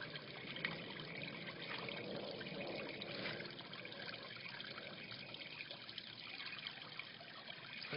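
Water runs in a steady trickling stream during a newborn pet's bath, continuous and soft with a faint splashing texture and no voices.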